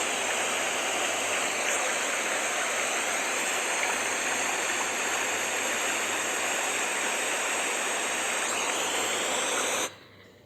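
A waterfall pours with a steady, dense rushing hiss that holds evenly at a constant level with no voices, then cuts off abruptly near the end.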